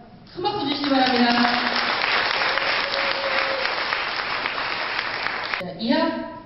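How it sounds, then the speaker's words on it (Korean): Audience applause at a company year-end party, a sustained burst of clapping filling the room for several seconds, with a voice speaking over it near the end. "큰 박수 주시기 바랍니다."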